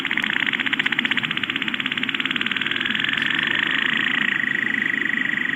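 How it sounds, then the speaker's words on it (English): Rapid, buzzing pulses repeat in a steady, insect-like trill, a sped-up minke whale call that sounds much like cicadas, continuous and fairly loud throughout. "these are minke whales, and they sound a lot like cicadas"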